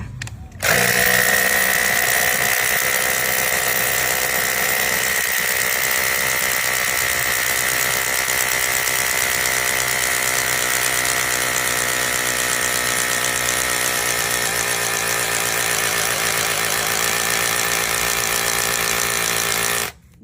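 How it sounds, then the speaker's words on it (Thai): An AKITA 188V cordless rotary hammer drill bores into a concrete floor in hammer mode, a loud steady high-pitched whine with rattling impact running continuously for nearly twenty seconds after starting, then stopping abruptly. "เดี๋ยวเราจะเจาะปูนให้ดู"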